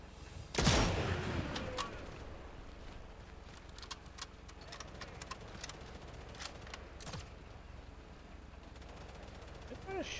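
Gunfire from enemies in Sniper Elite 5: a loud burst of shots near the start, then scattered single shots at varying distances, some distant and random, with occasional talk over a steady game ambience.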